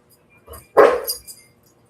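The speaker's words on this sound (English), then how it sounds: "Dog. Yeah, it's a dog." A single loud dog bark stands out indoors, preceded by a softer yip or whimper and followed by a brief trailing sound, with no talking.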